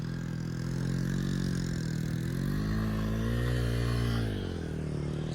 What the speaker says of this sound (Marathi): इथं काय गाडी अडकायला लागली